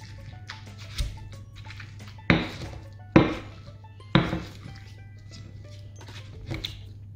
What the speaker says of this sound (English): We'll muddle up all these ingredients.